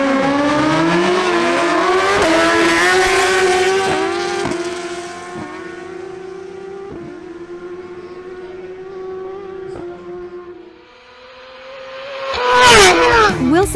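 Suzuki GSX-R1000 sport bikes at a drag race, a loud, high-revving engine note climbing through rapid gear shifts, then fading before another bike roars up close near the end, with a voice talking over it.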